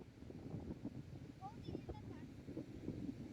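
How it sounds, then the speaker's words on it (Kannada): Strong wind gusting across a beach and blowing sand, a steady broadband roar buffeting the microphone throughout, with people talking faintly underneath. "ಮರಳು ಗಾಳಿ ಎಷ್ಟಿದೆ ಅಂದರೆ ಧೃತಿ, ಮರಳನ್ನ ಹಿಂಗೆ ಎತ್ತಿ ಬಿಡು ಮಗಳೇ"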